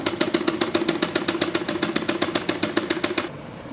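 A sewing machine stitches the lining of a suit in a fast, even run of mechanical clacks, close and steady, then stops abruptly near the end.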